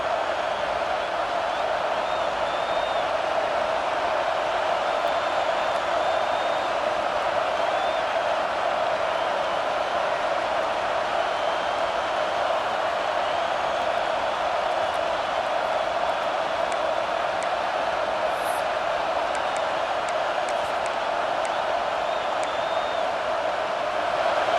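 A stadium crowd roars in a steady, unbroken wash throughout a college football video game between Auburn and LSU, loud and distant-sounding, with no clear individual voices.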